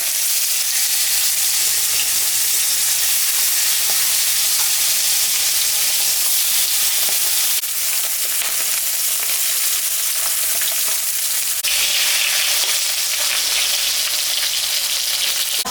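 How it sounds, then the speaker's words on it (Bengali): Koi fish fries in mustard oil in a hot kadai, giving a loud, dense, continuous hiss and spatter that runs throughout, close to the pan with no voices. "মাছটা আমি ভাজবো, সর্ষের তেল দিয়ে দিলাম।"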